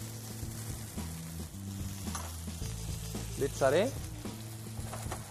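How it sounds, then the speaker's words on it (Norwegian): Shallots and dried mushrooms sizzle steadily in a frying pan, a close, continuous crackle with a few stirring scrapes. Someone talks briefly over it, and a low hum runs underneath. "Tar vi litt sjalottløk i panna."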